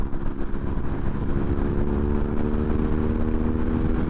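A BMW R NineT Scrambler motorcycle engine pulls under a little more throttle during a ride, a steady mid-pitched drone heard from the rider's position with wind noise mixed in and no talk.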